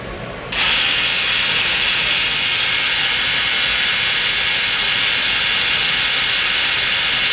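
A loud, steady high-pitched whine and hiss starts abruptly after half a second and holds at a constant level, from the live tools of a Citizen L38VIII CNC Swiss lathe spinning at 5,000 RPM about 8 inches away.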